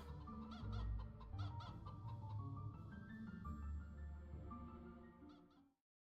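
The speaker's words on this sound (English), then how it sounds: "Those chicken noises." Video game chicken clucking in a 3D Metroidvania, repeated cartoonish clucks and fowl calls in a busy burst over game music, fairly loud and close, with no talking.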